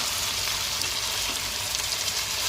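Chicken fries in oil and ghee with a continuous, close, loud sizzle that holds steady the whole time, no talking over it.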